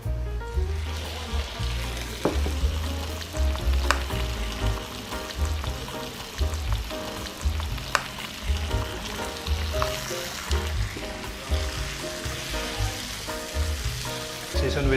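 Pork, onions and garlic fry in a 2000-watt electric grill pot with a glass lid, giving a steady moderate sizzle with intermittent stirring clatter and no talk.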